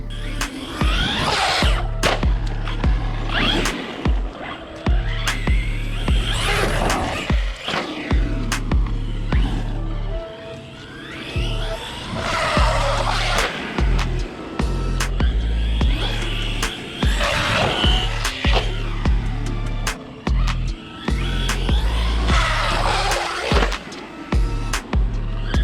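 A Traxxas Rustler 4x4 VXL RC truck on Sledgehammer tires runs over asphalt, its electric motor whining and rising and falling with throttle as tires rumble and grind along the rough surface, loud and continuous for the whole stretch.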